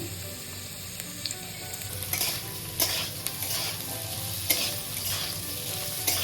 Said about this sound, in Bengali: আলুটাকে কিছুক্ষণ ভেজে নেব এখন আমি দিয়ে দিচ্ছি পেঁয়াজ কুচি